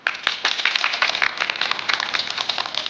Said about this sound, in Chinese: 接下来我请10位小欧给自己鼓鼓掌